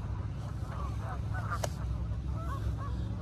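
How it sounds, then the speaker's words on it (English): Canada geese honk in scattered bursts from a distance, their calls overlapping against a steady outdoor rumble. "You can hear them, a bunch of Canadian geese."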